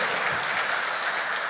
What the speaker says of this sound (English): Let's clap for the second robber.